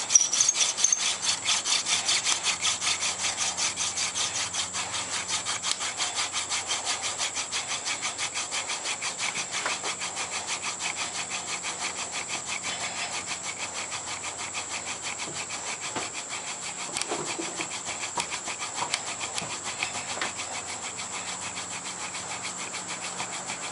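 Mimosa silk tree wood is sawn for a friction fire to build up dust, giving a steady run of quick, rhythmic rasping strokes, fairly quiet and close, with no voices.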